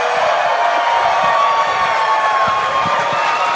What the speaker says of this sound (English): Can we get another cheer from the crowd?